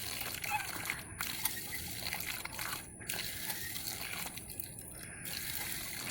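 Water gushes steadily from a newly installed pump pipe on a temporary hookup, a continuous rushing splash close by with brief breaks in its flow.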